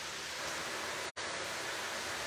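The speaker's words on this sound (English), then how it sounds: "the sound of sizzling meat" Dense, steady crackling sizzle of beef frying for Irish stew, loud and close, with a brief dropout to silence midway.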